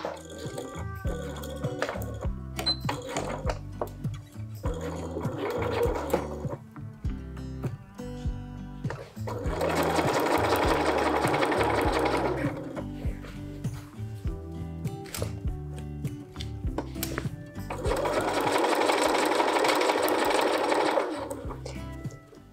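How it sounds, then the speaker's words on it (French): A sewing machine fitted with a zipper foot stitches along a zipper on a skirt, running in short bursts at first, then in two long steady runs, close and fairly loud. "Je commence à coudre dès le haut de ma fermeture, comme ça tout est bien maintenu"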